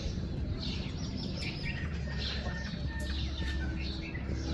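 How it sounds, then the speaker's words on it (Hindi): Small birds chirping and tweeting in the early morning near a chicken coop, a steady busy chorus of faint overlapping calls over a constant low background rumble, with no clear talk. "सुबह सवेरे अल्हम्दुलिल्लाह चिड़ियाँ बहुत ज़्यादा चहचहा रही हैं"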